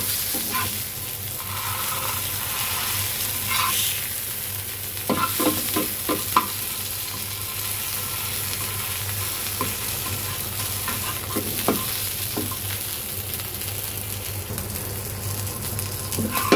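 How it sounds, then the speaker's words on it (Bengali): Fish pieces frying in hot oil, giving a continuous close sizzle with occasional crackles and a few clusters of spoon or spatula clicks, steady in level and without speech. "মাছগুলো আমি একটু বেশি করে ভেজে নিব"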